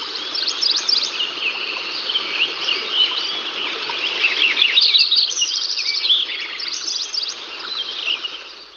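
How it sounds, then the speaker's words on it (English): Many birds sing and call in a meadow with a stream running through it, chirps and trills layered densely and continuously over a soft steady wash of flowing water, with no voices. "So lots of bird songs. You can hear the water because there is a stream running through the meadow, but lots and lots of bird songs."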